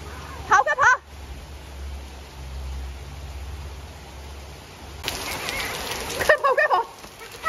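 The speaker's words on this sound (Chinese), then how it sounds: "突然下起了大暴雨啊！" A sudden heavy rainstorm in Wuhan pours down as a steady, dense hiss that fills the middle stretch, with brief voices breaking in at the start and end.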